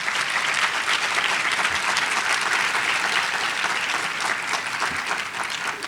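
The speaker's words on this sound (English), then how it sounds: "she deserves a very, very loud round of applause" Loud, sustained applause from a large audience at a top seniors recognition ceremony, honoring a graphics artist and production person; steady clapping fills the whole stretch without a break and fades only slightly at the end.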